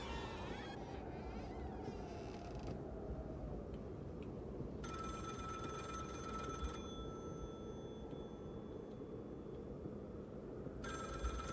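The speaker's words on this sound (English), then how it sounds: "We might as well go up and answer the phone." A telephone rings in the video game The Cabin Factory, with bursts of electronic bell tone over a constant low rumble and a faint buzzing drone.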